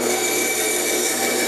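A saw makes slow relief cuts into a wooden dragster block, a steady continuous rasping that is fairly loud and close, with no pauses and no talk.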